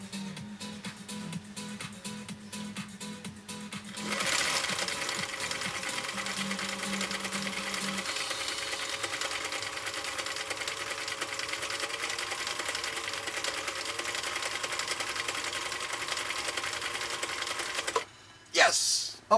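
A Husqvarna Viking CI 21A sewing machine runs a cam C decorative stitch, a steady rapid mechanical whirring that lasts roughly fourteen seconds after some lighter clicking and whirring, then halts with a few closing clunks.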